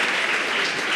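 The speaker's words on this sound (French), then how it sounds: "Merci, applaudis justement." Audience applause at a youth talk, a brief dense burst of clapping that is steady and fairly loud.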